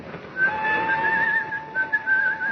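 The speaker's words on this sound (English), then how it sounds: "made his way, whistling as usual, through the weekend-bound crowds of Waterloo Station" A man whistles a short melodic tune, clear and close, the notes wavering slightly over soft background noise.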